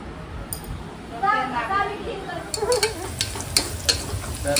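Onions reddening in a pan for mutton biryani sizzle while a spoon stirs them, giving scraping, clattering strokes over a frying hiss. A voice talks briefly partway through.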